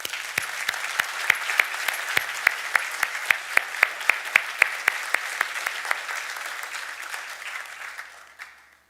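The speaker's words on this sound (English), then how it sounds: "Let's give them a big round of applause." A small audience at a Millersville event claps together in a steady rhythm, the applause fading out at the end.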